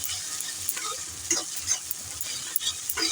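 Onions cooking in hot oil alongside garlic, ginger and a crushed cardamom, with a soft steady sizzle under repeated scraping strokes of a spatula stirring the pan, close and moderately loud, no talk.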